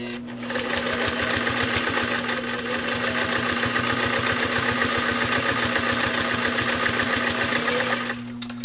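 A fully restored 1963 Singer 503A sewing machine runs at a steady fast clip while stitching through thick layers, its motor humming and needle chattering loud and close, starting and stopping cleanly with no talking.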